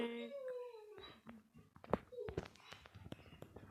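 A dog whines and lets out a rising, wavering howl, then yips and whimpers, fairly close and not very loud.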